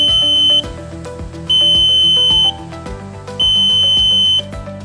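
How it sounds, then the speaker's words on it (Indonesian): Three loud, sustained electronic beeps, each about a second long, sound at a steady rhythm over a droning musical background: the timer buzzer of an E02 portable smart etching machine signalling the end of etching. "Setelah timer tamat, buzzer akan berbunyi menandakan bahwa proses etching telah tamat."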